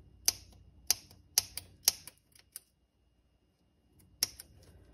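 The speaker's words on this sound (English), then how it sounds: "These scissors suck." Small scissors snip through doll hair during rerooting, several sharp, close, crisp cuts spaced about half a second apart, a pause, then one more snip.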